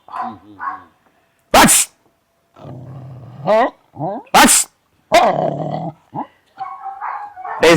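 A native street dog growls and barks in short, loud bursts, interspersed with people talking nearby.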